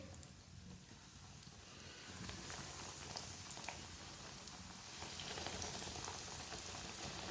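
Bread frying one piece at a time in hot oil on a stove, a faint steady sizzle and crackle that grows slightly louder, close and continuous.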